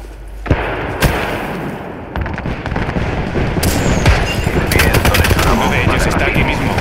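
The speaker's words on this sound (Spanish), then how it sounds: "Están disparando." Apex Legends gunfire rattles in loud, repeated bursts and single sharp shots, with an impact boom early on, dense and continuous over several seconds with a voice speaking beneath.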